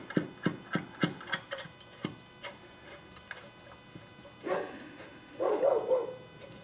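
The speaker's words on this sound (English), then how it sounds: "There's Sierra barking at the mailman" A dog barks in a quick series of sharp yaps early on, then a few scattered barks follow, fairly loud against a quiet room.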